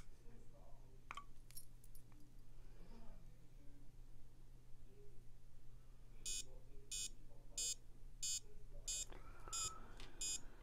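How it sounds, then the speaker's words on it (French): A faint pulse oximeter beeps in a regular pulse with the heartbeat, short high-pitched tones repeating about once every second over a low steady hum in a quiet room. "Les petits bips, c'est des bips que l'on entend au niveau des pulsations cardiaques."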